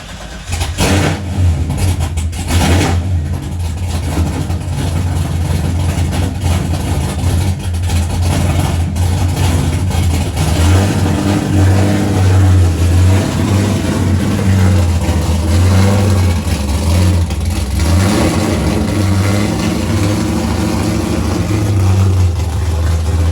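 A car engine cranks and catches, then idles with a loud, deep steady rumble and rises and falls in several revs, continuous and close throughout with no talk.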